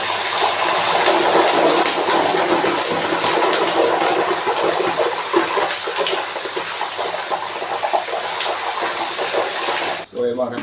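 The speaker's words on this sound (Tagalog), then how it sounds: "Ngayon, dito na natin lalagay pa konti-konti yung tubig." Chicken skin frying in a pan hisses loudly and steadily as water is added little by little, a dense, continuous sizzle that runs almost to the end before dropping off abruptly.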